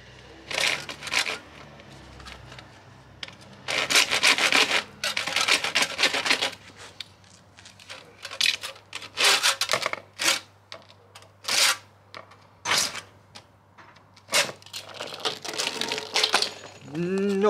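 Repeated rasping strokes of a hand saw cutting through a tube, coming in uneven bursts with short pauses between, close and fairly loud.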